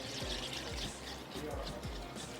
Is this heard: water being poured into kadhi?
yes